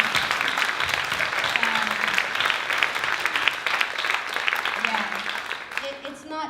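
Audience applause at a dance show, dense steady clapping from a crowd filling several seconds, with a few voices calling out near the end as it fades.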